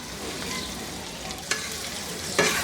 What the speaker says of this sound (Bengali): এই মিনিট দেড়েক দুয়েকে ভাজবো মরিচগুলার ঝালটা একটু রিলিজ হওয়া পর্যন্ত